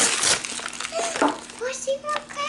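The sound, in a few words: ripping open a cracker package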